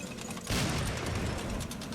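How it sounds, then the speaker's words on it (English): Rockets firing during an infantry attack in the strategy game Citadel, a sudden loud burst of layered blasts and crackling that sustains over a rumbling battle bed. "Listen to the rockets."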